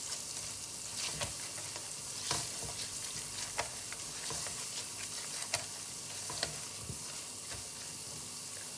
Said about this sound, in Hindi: इसको भी ऐसे ही 30 सेकंड तक मिक्स करना है और भूनना है